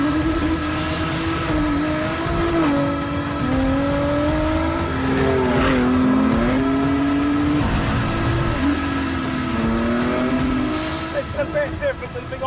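A Ford GT's engine revs and pulls hard around a race track, loud and close with rising and falling pitch as it shifts, while someone talks over it.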